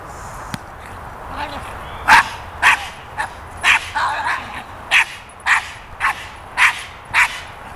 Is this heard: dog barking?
yes